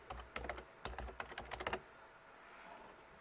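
Quick bursts of typing on a computer keyboard to log in, close clacking keystrokes for under two seconds, then quiet.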